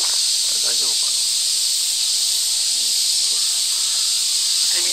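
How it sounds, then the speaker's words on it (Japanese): Cicadas drone steadily through the whole stretch on a mountain trail after a typhoon, a loud continuous high buzz with faint bird or voice sounds underneath. "セミの音聞こえてますかね。"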